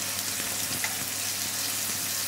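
Koi fish being fried in oil in a pan, a steady soft sizzle running evenly throughout with a faint crackle, no voices.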